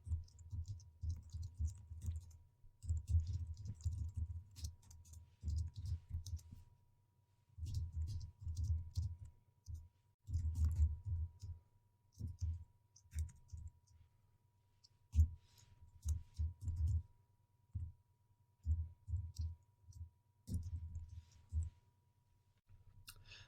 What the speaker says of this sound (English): And I'm going to stop talking and start typing.